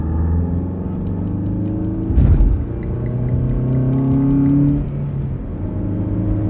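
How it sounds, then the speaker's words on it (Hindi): A car pulls away on a night road, its engine giving a steady, close rumble and whir that swells briefly with a rougher burst before settling back into an even drone. "कुछ दूर पर वो अपनी गाड़ी लेकर आगे बढ़ जाता है।"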